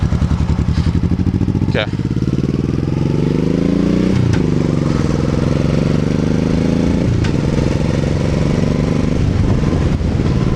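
A 2001 Honda Shadow Bobber motorcycle engine runs loud and close, its lumpy idle rising as the bike accelerates away, with a few brief shifts in pitch and a single short spoken word over it.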